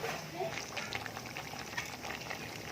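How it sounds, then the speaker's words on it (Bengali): Meat cooks in a pot on a kitchen stove while biryani is being prepared, giving a steady, close bubbling sizzle that holds without a break. "আর এই পাশের চুলায় হচ্ছে মাংসটা রান্না করা হচ্ছে"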